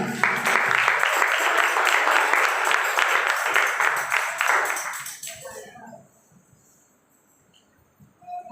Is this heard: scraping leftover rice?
no